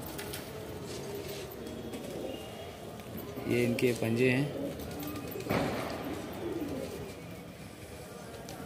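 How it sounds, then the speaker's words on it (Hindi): Madrasi pigeons with upright bodies, an Andhra type, give soft repeated coos at close range, heard under someone speaking, with some shuffling and handling noise. "खड़ी बॉडी के कबूतर हैं, बहुत अच्छे कबूतर हैं छोटी हुई डील के।"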